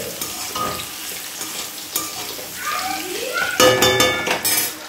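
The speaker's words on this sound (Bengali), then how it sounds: "এবার নেড়ে নেড়ে খালি ভাজা হবে।" Flowers are stir-fried with salt and turmeric in a pan, giving a steady close sizzle with repeated scraping and clinking of a spatula against the metal that grows louder and busier toward the end.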